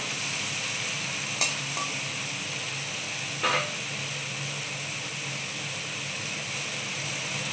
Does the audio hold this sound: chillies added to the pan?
yes